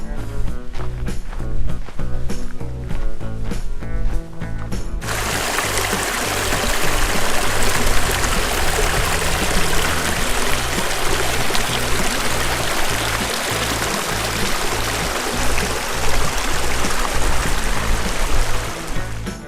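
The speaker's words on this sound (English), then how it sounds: "Mission Creek right over there." Mission Creek rushes and burbles steadily in the desert, a continuous stream flowing close by, with a brief different sound at the start before the flow takes over.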